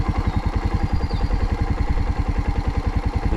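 A Suzuki TU250X motorcycle engine chugging at low revs, a steady close thumping pulse as the bike creeps forward with the clutch slipping in the friction zone and no throttle, loud and alone.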